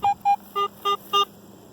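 A metal detector sweeping a Tennessee colonial relic site gives five short electronic beeps in an even rhythm, two higher single tones followed by three lower, richer tones, clear and close.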